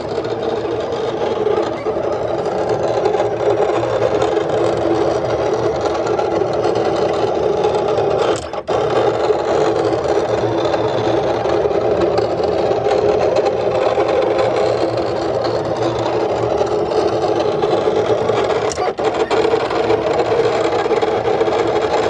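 A Silhouette Cameo 4 cutting machine runs with a steady mechanical whir and buzz, fairly close, with brief clicks as the carriage changes direction.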